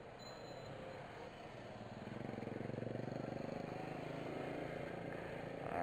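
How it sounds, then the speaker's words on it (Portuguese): Small motorcycle with aftermarket exhausts running nearby, a steady buzzing engine drone that swells louder after a couple of seconds and holds, with background noise around it. "Moto pequena com esses escapamentos é simplesmente uma coisa medíocre."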